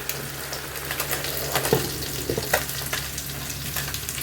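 Fish frying in a home kitchen pan, a steady close sizzle with a few sharper crackles and pops, no voices.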